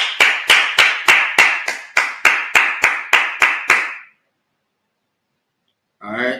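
A congregation clapping at a Sabbath service: about a dozen sharp, unison claps in a steady, even beat, followed by a pause of silence and then a brief voice.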